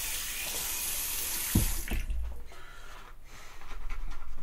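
Tap water runs from a sink faucet onto a soapy shaving brush, a steady close hiss with a brief splash as the flow shifts, then continuing spatter.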